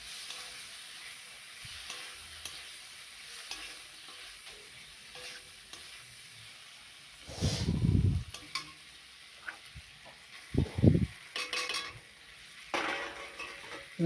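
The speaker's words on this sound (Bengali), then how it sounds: "আলু দিয়ে নাড়তে হবে ভালো করে" Potatoes and okra frying in a pan for a Bengali-style bhindi aloo jhal, with a steady sizzle and bursts of loud, scraping stirring strokes against the pan.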